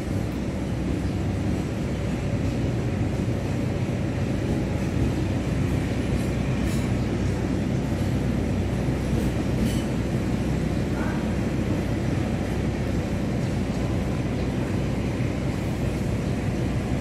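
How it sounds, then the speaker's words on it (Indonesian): A passenger train, the Argo Muria, rumbles steadily as it pulls away from Cirebon station, a continuous close low roar with wheel clatter and no pauses. "Argo Muria berangkat dari stasiun Cirebon, relasi Jakarta Tawang Semarang. Ini sudah jalan."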